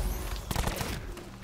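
Dense, rapid gunfire from Black Ops 4 Zombies on Xbox One X, loud and continuous bursts filling the whole moment with no pauses.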